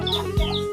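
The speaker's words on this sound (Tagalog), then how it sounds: "Ito yung manok ni Papa." Papa's chicken gives a short, close cluck, a single brief call heard on its own.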